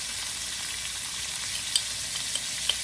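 Cabbage stir-frying in a hot pan gives a steady, bright sizzle throughout, with a few sharp clicks of a utensil stirring against the pan; no one speaks.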